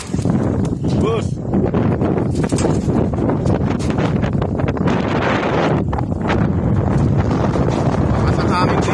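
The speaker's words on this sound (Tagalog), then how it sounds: "Pasang hangin dito." Strong wind blowing over the sea during a boat race, roaring steadily against the microphone with rustling and flapping, loud and close throughout.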